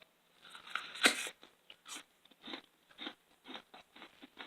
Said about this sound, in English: I like to take a bite of apple, then I take a bite of celery and just mix them up